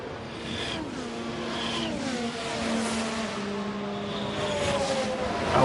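F1 race cars in the F1 Manager 23 video game race at Silverstone. Several whining engines pass in turn, their pitch rising and falling with gear changes, and the sound grows louder at the end.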